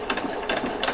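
A sewing machine makes a tiny back stitch on a Christmas party dress, a short rhythmic burst of needle clatter with three quick pulses, close and alone.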